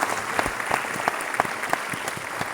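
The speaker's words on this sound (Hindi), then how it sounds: "एक बार हम लोग जरा पूरे सम्मान के साथ एक बार जोरदार तालियां मेरे गुरुओं के लिए" A small audience applauds at a team success gathering, with distinct individual claps in an uneven rhythm over a few seconds and no speech.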